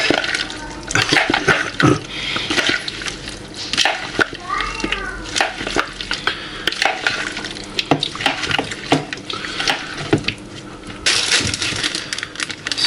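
Greek salad gets tossed with a pinch of seasoning and black pepper: repeated wet clattering and squishing as the ingredients are stirred together, close and fairly loud, in uneven bursts throughout.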